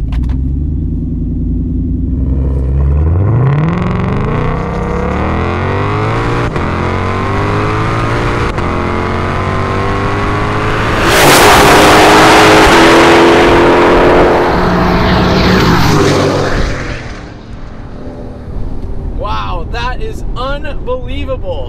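A supercharged 2021 Ford F-150 truck, a Hennessey Venom 775, drag races a Shelby GT500, with engines revving and rising through the gears, a loud roaring pass around midway, then a fade. Voices talk over it near the end.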